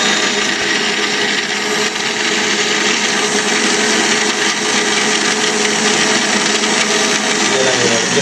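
A countertop blender on high speed crushing ice cubes for mint lemonade, a loud steady grinding whir with rattling ice throughout, no talk over it.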